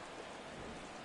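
Steady, faint rain in a football video game, a soft continuous patter with a hint of distant rumble and no talking.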